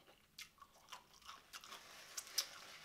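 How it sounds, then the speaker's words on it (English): Quiet, close crunching and chewing on fried shrimp from a seafood boil, heard as a run of soft irregular crisp bites with no talking. "that crunch,"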